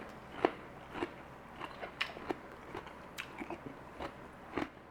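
Crunchy homemade pickled red cabbage in a vinegary sweetened brine being bitten and chewed up close, a run of sharp crisp crunches at an uneven pace with quiet pauses between them, no talking.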